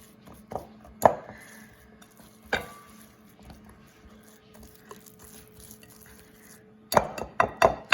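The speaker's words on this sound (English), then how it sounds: "So, we're gonna keep stirring." Eggless chocolate chip cookie dough being stirred in a bowl, heard as sparse scraping and sharp clinks of the spoon against the bowl, with a quick cluster of knocks near the end.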